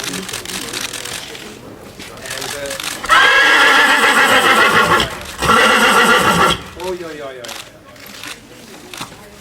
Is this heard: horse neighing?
yes